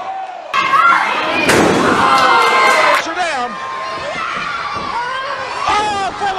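A body slam in a women's wrestling match in the TNA ring, a heavy thud landing over loud crowd cheering and the commentators' ongoing play-by-play talk.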